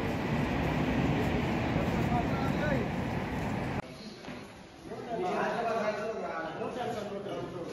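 A train pulls in at a station platform, its broad rumble and rail noise loud at first, then easing before rising again, with people talking nearby.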